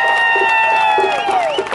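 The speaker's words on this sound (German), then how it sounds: "Dafür auch mal einen Applaus." Crowd at an outdoor marijuana march rally in Nürnberg applauds and cheers, with clapping and whistles blending with shouting voices and tonal whistling over a short burst.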